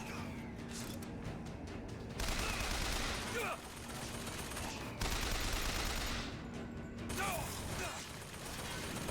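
Gunfire from a weapon in the video game Sky Rapture: bursts of mechanical clattering shots come in a few separated volleys over a steady background hum, fairly faint, with some speech-like sound mixed in.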